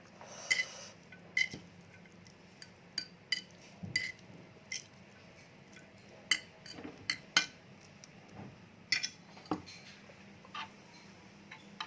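A utensil stirs Indomie instant fried noodles in a dish, making scattered sharp clinks and ticks in an irregular rhythm, close and fairly faint over a quiet background with no talk.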